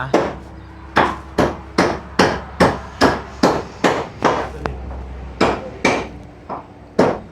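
A lid is hammered shut with a steady series of sharp, close blows, about one to two per second, roughly a dozen strikes with a short pause near the end.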